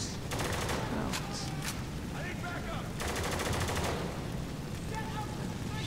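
Rapid automatic gunfire rattles in dense, sustained bursts during a firefight in the shooter game Spec Ops: The Line, with brief pauses between volleys and battlefield noise throughout.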